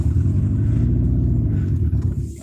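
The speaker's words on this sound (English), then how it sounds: "Obviously, we recorded the revving of that vehicle." A vehicle engine revs close by in a parking lot, a loud, deep, steady throbbing rumble with slight clatter across the whole moment, no talking.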